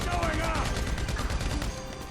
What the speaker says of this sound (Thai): รัวให้หมดลูกกระสุนมีเท่าไหร่เอาออกให้หมด